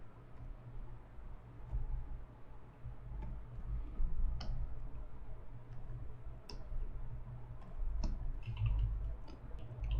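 Number keys tapped on a computer keyboard while adjusting layer opacity in photo editing software, giving a string of light, close clicks at irregular intervals over a steady low hum.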